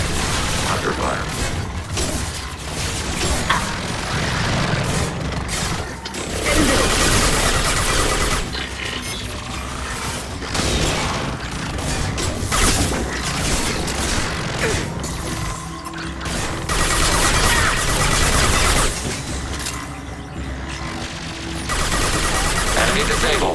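Sustained gunfire and crashing combat noise from a firefight in Mass Effect 2 Legendary Edition, loud and dense with bursts throughout, under intermittent game character voices.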